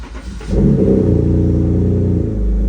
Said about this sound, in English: So let's go ahead, fire up the car.